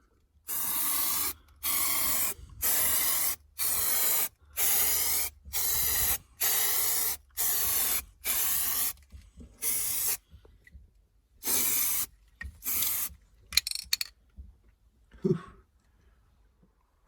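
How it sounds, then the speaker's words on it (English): Repeated short bursts of spray glue, about a dozen evenly spaced hisses, loud and close, followed by a few quicker sprays and faint handling noises. "I sprayed both surfaces with the glue"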